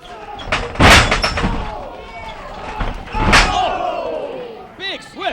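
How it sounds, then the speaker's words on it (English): Thudding impacts in a hardcore wrestling match, a swift kick landing amid slams, with loud crowd noise and a commentator talking over the action. "Big swift kick to the temple of David Young."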